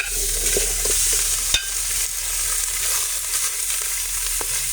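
Pork stir-frying in a hot pan, a steady loud sizzle with faint scraping stirs throughout and one sharp knock of the utensil against the pan.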